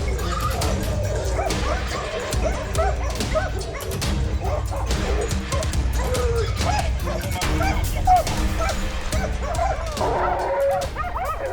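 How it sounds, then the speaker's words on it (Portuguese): A pack of trained hunting dogs bay and yelp excitedly at a cornered wild boar, a continuous, overlapping chorus of barks, yips and whimpers close by, with a voice talking underneath. "Os cães treinados rastreiam, perseguem e encurralam os javalis em uma área estreita, e então latem alto para sinalizar a localização ao caçador"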